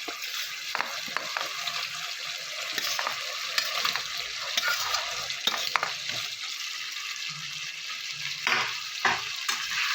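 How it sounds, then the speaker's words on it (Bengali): Potato pieces frying in spiced oil in a pan, stirred repeatedly with a utensil, with a steady low sizzle broken by scraping clinks and stirring scuffs, close up and with no voices. "আলুটা দিয়ে ভালো করে আবার কষিয়ে নেব।"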